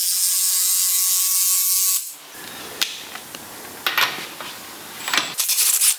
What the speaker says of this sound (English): tighten it up and it compresses the spring